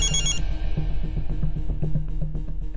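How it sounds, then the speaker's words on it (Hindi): A telephone rings with a steady repeating electronic bell pattern, close and fairly loud, heard alone with no talk during the ring in a domestic household scene. "रेवती जी का फोन"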